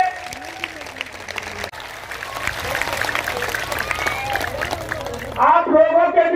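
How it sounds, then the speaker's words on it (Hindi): Loud, sustained applause from a crowd at a political gathering, a dense wash of clapping that builds and swells, with a voice rising over it near the end. "जोरदार ताली होनी चाहिए।"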